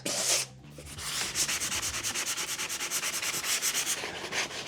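Hand sanding a wall after peeling off peel-and-stick wallpaper, a steady run of rapid back-and-forth scrubbing strokes, close and fairly loud, after a brief pause near the start.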